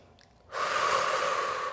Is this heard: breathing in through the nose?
yes